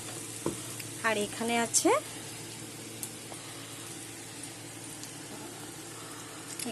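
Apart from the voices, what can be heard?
okra being stir-fried in a pan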